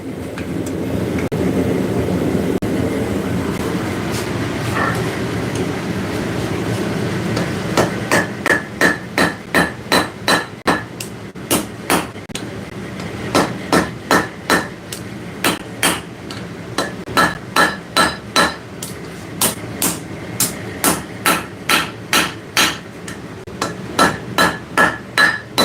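Hammer blows forge hot metal in a blacksmith workshop, at first a low rumble, then loud ringing strikes in quick regular bursts separated by short pauses, close and sharp, with no talking.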